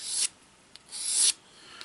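A sanding block rubs lightly along the edge of wooden triangle stock to round it. Two long, close rasping strokes sound alone, with a brief scrape between them and another at the end.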